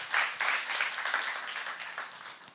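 A church congregation applauds during a Korean sermon at a youth service. The clapping is steady and moderately distant, swelling at the start and slowly fading over a few seconds.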